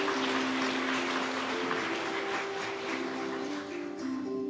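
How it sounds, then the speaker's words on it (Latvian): An audience at a Latvian cultural event applauds in a dense, sustained wash of clapping that holds steady for several seconds over a faint steady tone, then thins slightly near the end. "Vēlreiz ar aplausiem."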